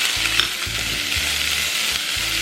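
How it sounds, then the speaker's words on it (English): Onions and chilies for vegan tamale rajas fry in a very hot pan, making a continuous close sizzle with a few crackles over a low, pulsing hum from a range hood or burner. "Now I'm gonna throw in my onions."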